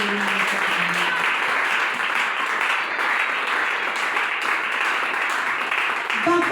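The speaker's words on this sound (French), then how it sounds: "Acclamez pour le Saint-Esprit." A church congregation breaks into steady, loud applause, dense clapping from many hands filling the room without pause, with faint voices mixed in at the start.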